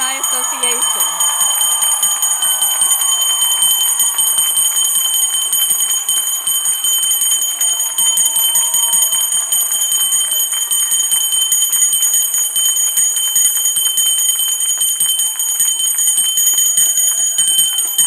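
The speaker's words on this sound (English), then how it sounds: "please raise your bells and ring them to celebrate your graduation and entry into the Alumni Association" Graduates at a Hartwick College commencement ring hundreds of handheld bells at once, a loud continuous jangling wash that fills the whole stretch without pause, with faint voices beneath.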